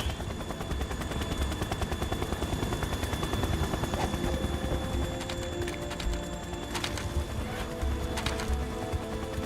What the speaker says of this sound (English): Russian choppers